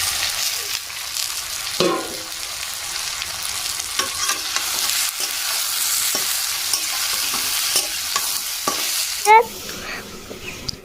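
Soybean chunks and potatoes are stirred into a frying masala of onion, chilli and tomato, giving a loud, steady sizzle broken by repeated spatula scrapes and a sharper clatter near the end.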